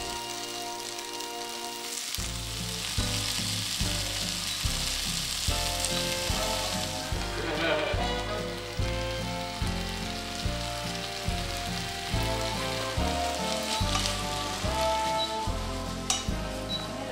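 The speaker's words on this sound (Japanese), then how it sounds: "調味料を入れ、さっと火を通します。" Malabar spinach and tomato with seasonings stir-fry in a pan, crackling with a continuous moderate sizzle under a steady musical background.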